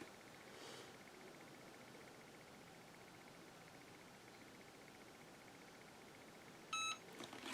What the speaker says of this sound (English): when the 30 seconds are up, it will beep at me